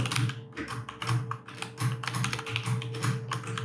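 Rapid, steady typing on a computer keyboard while writing a script line, with clustered keystrokes in quick bursts, close and clear with no talk.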